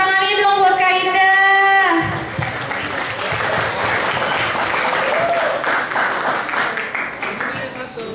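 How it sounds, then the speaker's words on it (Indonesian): Audience applause at a secondary school orientation event in Jakarta, a steady crowd clapping that swells in right after a voice and fills the rest, loud and sustained, with talk faintly underneath. "Tepuk tangannya dong buat Kainda."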